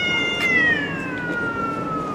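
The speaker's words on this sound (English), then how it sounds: "Did you guys hear that cat?" Cats meow and caterwaul on a Seoul street, a long drawn-out wailing cry that slides downward and carries over steady street background noise, with no talk.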